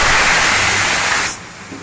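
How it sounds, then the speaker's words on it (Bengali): Hog plum and chopped onion hit hot oil in a pan, releasing a loud, steady sizzling hiss that abruptly quiets after a second or so. "তেলের মধ্যে এই আমড়া আর পেঁয়াজটাকে দিয়ে দেবো।"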